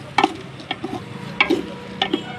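Mixed vegetables for khichuri, dusted with turmeric, fry in their own juices in a pan with no water added, with a soft steady sizzle broken by a few sharp spoon scrapes and clatters as they are stirred.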